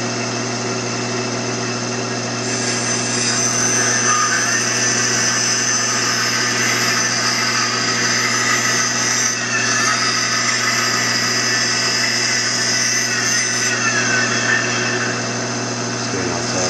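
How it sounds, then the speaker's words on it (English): A bandsaw with a 1/8 inch blade trims plywood veneer for a fidget spinner, a steady motor whine with a sustained cutting tone running close and continuous. "we're just gonna trim this on the bandsaw with the 1/8 inch blade"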